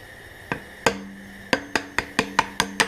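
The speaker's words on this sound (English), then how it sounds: "Now we're going to hit it with a little hammer and a punch." A small hammer drives a punch to knock a wheel off its axle after the rivet heads were ground away, giving about eight sharp metallic taps that start spaced and quicken into a steady rhythm, close and alone.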